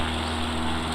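An X Cub propeller airplane in flight sends out a steady, close engine-and-propeller drone, even and unbroken throughout.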